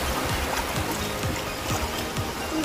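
Strong sea waves at Paniman Beach in Ternate, Cavite, a steady, close, loud rush of churning surf and water that fills the whole stretch without a break.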